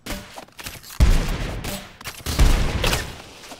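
Gunfire in the game Rounds: a few sharp, punchy shots and bursts with short gaps between them, close and loud, ending in a louder blast.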